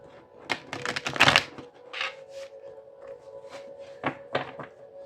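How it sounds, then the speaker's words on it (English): Someone shuffles a deck of cards nearby, giving irregular bursts of riffling and tapping mixed with light knocks against a surface. "then I will grab this deck. So let me shuffle it up"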